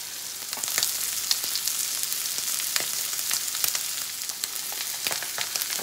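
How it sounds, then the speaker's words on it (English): Pork loin searing fat side up in a hot skillet over high heat, a steady close sizzle and crackle with scattered sharp pops running throughout, with no talking. "I really want to get a sear on this meat."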